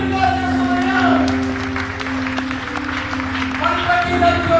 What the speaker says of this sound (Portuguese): Você pode aplaudir o Senhor nessa manhã?